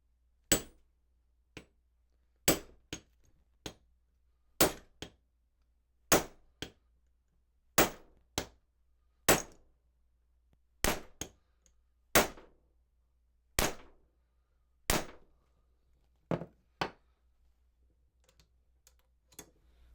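Sharp metallic hammer blows striking a hammer-type crimp tool onto wire lugs, about eighteen evenly spaced whacks, some in quick pairs, close and loud with brief ringing decay and no talk.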